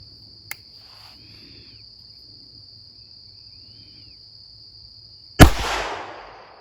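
A gunshot into a ballistic gel block outdoors lands as one sharp, loud crack near the end, ringing out and decaying, after quiet seconds of steady cricket chirping and a small click.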